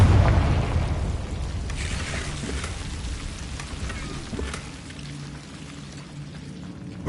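A Confringo explosive spell goes off in Hogwarts Legacy: a heavy, rumbling burst up front that slowly fades into a crackling, rain-like wash with low rumble underneath.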